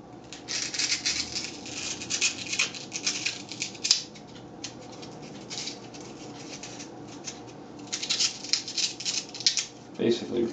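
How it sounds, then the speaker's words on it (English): Cutting a groove inside a paper mache oviraptor sculpture, with crisp snipping and rustling bursts in clusters, close up, between stretches of softer handling and some talk. "we're going to cut out a groove on the inside"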